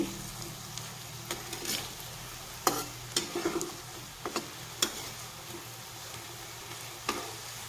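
Egg and potato fritters fry in hot oil, a low, steady sizzle broken by scattered sharp ticks and pops and a few stirring or scraping knocks from a spoon, with no voices.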